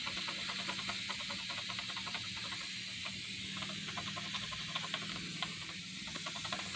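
A reptile cage mister spraying near a bearded dragon, a continuous close hiss with faint rhythmic clicking underneath, steady and alone for several seconds.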